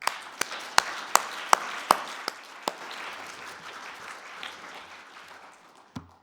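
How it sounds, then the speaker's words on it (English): Scattered claps from a conference audience, a few sharp, distinct hand claps at first, then a soft, thin round of applause that fades over several seconds and ends with one louder knock. "So give yourselves a round of applause as well."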